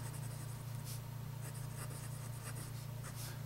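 A Wancai Mini fountain pen with a fine steel nib writes on a Rhodia pad, giving soft, close scratchy strokes in short bursts over a steady low electrical hum.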